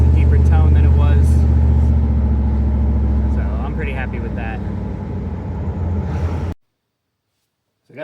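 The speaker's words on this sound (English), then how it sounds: "It's a deeper tone than it was." A third-generation 1982-1992 Chevrolet Camaro V8 idling through a newly installed Edelbrock exhaust, a deep steady rumble close by while someone talks over it, then it cuts off abruptly.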